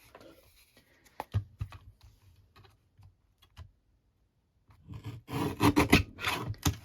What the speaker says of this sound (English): Okay, so I'm going to trim that down.